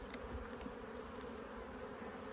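Agitated honey bees swarm around an open hive, a steady dense buzzing drone that stays even and close for the whole stretch, with no voices.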